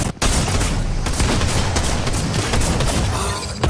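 Gunfire in Fortnite, a loud, sustained burst of rapid shots and impacts right after a short gap, continuing almost unbroken to the end.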